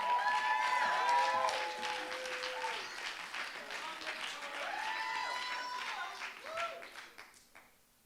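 Audience applause with cheering for a poet at the Canadian Individual Poetry Slam Finals, a steady crowd roar that holds for several seconds and then fades out, with voices mixed into the noise.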